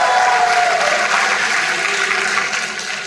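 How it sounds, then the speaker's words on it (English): A TEDx audience applauds, a dense wash of clapping that fills the room and slowly fades toward the end, with no voices over it. "You definitely need an applause."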